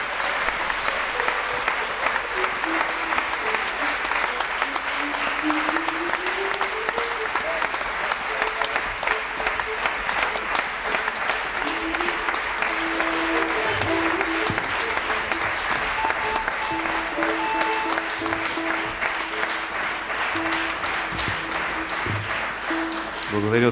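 Concert audience applause in a hall, a dense, steady wash of clapping that carries on for over twenty seconds, with a few voices underneath.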